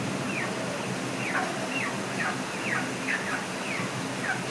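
Chickens on a small farm making repeated short clucking calls in an irregular rhythm, moderately near, over a constant background hiss.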